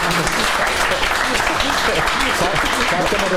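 Audience clapping at a football talk show, dense and continuous throughout, with chatter underneath.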